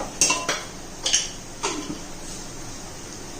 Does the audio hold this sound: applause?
no